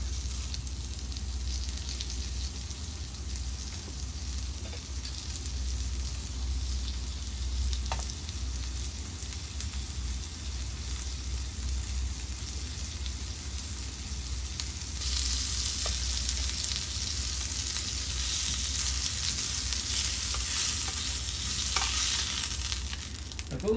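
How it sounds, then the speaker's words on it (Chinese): Scallops searing in hot oil in a pan produce a continuous close sizzle that swells louder midway, with occasional light scrapes and no talking. "那個帶子呢煎了一面啦，嗱呢邊煎硬了啦。"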